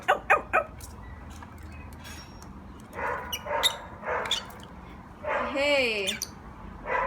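Pet parrots mimic dog barking, giving a few sharp yappy barks and then rougher bark-like calls and squawks, close by, with people talking in the background.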